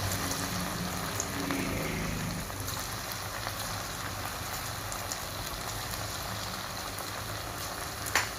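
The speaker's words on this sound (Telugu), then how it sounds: "ఇప్పుడు డీప్ ఫ్రైకి సరిపడా ఆయిల్ వేసుకుని ఆయిల్ హీట్ అయిన తర్వాత మనం కలుపుకున్న పిండిని పకోడీలా వేసుకోవాలి." Sago and moong dal pakoda batter deep frying in hot oil gives a steady, dense sizzle and bubbling hiss throughout, with a slightly louder burst of frying near the start and no voices.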